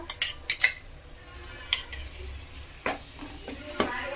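Coconut and ginger masala paste fries in a pan for raw banana curry, with a soft sizzle under scattered sharp scrapes and clinks of a spoon stirring against the metal, close and fairly quiet.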